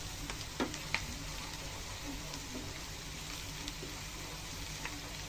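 Pickle cooking in plenty of mustard oil and being stirred, a soft even sizzle and crackle with a few light utensil knocks, steady and fairly quiet, no talking.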